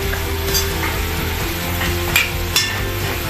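Ground meat and tomatoes frying dry in a pan with no oil, a steady close sizzle with occasional sharp clacks of a utensil against the pan.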